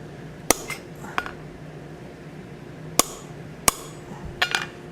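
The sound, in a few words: blacksmith hammering a punch through hot steel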